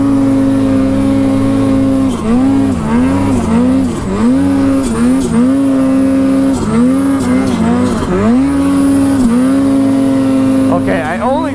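A Polaris snowmobile engine revs and labours while riding through deep snow, its loud droning pitch rising and dipping repeatedly as the throttle changes, close and continuous throughout.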